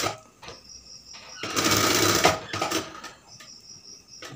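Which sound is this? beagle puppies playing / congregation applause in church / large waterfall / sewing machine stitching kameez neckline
sewing machine stitching kameez neckline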